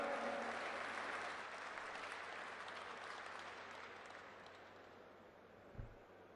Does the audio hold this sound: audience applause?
yes